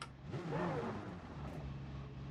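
A Gr.2 race car in GT Sport at Suzuka reverses with a steady, fairly loud engine drone and a brief climb in revs, alone with no voices.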